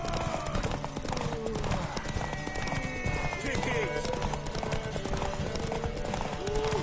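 Galloping horse hooves in The Witcher 3 pound in a steady, rapid clip-clop during a horse race to a tower, close and continuous, mixed with other game sounds and voices.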